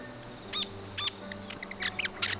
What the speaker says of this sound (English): Here's a fantail.